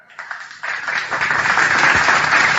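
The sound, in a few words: audience applause for a performer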